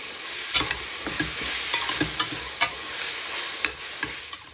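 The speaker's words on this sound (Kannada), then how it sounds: "ಶುಂಠಿ, ಬೆಳ್ಳುಳ್ಳಿ, ಹಸಿಮೆಣಸಿನ್ಕಾಯಿ ರುಬ್ಬಿಟ್ಕೊಂಡಿರೋದು ಹಾಕ್ಕೊಳ್ಳೋಣ. ಅದನ್ನು ಚೆನ್ನಾಗಿ ಫ್ರೈ ಮಾಡ್ಕೋಬೇಕಾಗತ್ತೆ," Ginger, garlic and green chili paste sizzling in hot oil for chicken biryani, a steady bright frying hiss broken by scattered pops and the scrape of stirring, close and alone.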